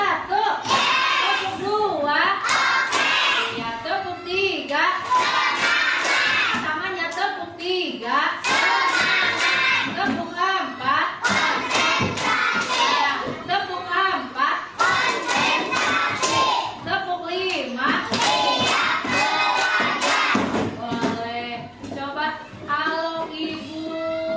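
First-grade pupils in a classroom clap on command amid a teacher's repeated spoken prompts, short bursts of hands sounding between loud stretches of talk.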